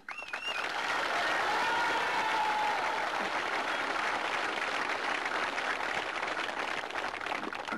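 Sustained crowd applause after a junior Gaelic football championship final, dense steady clapping at moderate distance, with a brief voice heard over the start.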